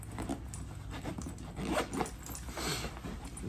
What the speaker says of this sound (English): Zips up all nice and neat.